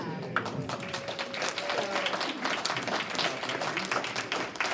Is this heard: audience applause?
yes